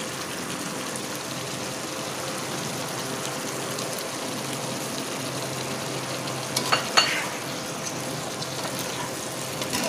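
Sugar being stirred into the sauce for masoor dal pakora in a pan: a steady close sizzle with soft scraping and a couple of brief clinks near the end.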